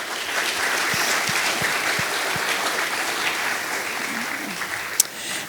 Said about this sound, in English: So if we could just give a round of applause for all the efforts once again.